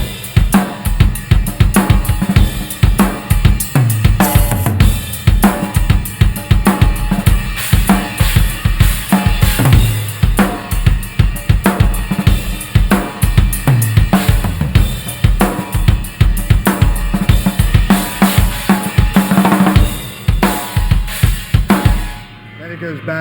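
A full drum kit plays a rock song steadily and loudly, with driving kick and snare hits, crashing cymbals and busy fills throughout, ending in a sudden cutoff near the end.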